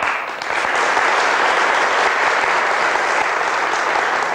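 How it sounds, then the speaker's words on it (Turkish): A studio audience on a 1995 Turkish television variety show applauding for arriving guests, a steady, loud wash of many hands clapping that swells after a brief start and holds evenly throughout. "Daha isimlerini duymadan bu kadar alkışlıyorsunuz"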